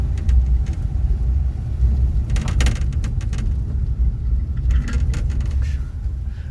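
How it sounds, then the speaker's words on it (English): An old car's engine rumbles steadily from inside the cabin, with bursts of rattling and clattering from loose windows and a squeaky clutch as it drives along. "Between the squeaky clutch and the rattly windows, we've got a clatter trap."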